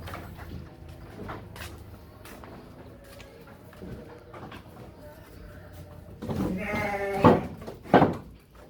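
Sheep in a farm pen give two loud, close bleats near the end, after a stretch of quieter barn background with scattered knocks and faint bird cooing.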